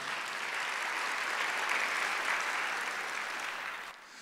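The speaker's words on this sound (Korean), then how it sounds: "깨닫는 사람만 박수 한번 쳐보세요" Sustained applause from a Korean church congregation at Sunday worship, a thick, even roar of many clapping hands that holds steady before cutting off abruptly near the end.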